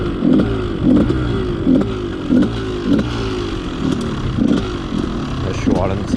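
A Yamaha YZ 250 SM two-stroke supermoto engine idles close by with a rough, rhythmic pulsing putter, while someone talks over it.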